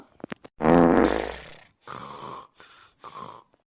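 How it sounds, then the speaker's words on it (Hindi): A loud, low rasping vocal sound that could be a fart, followed by several shorter bursts of voice-like sound. "ऊपर से पादे जाथिन परर परर"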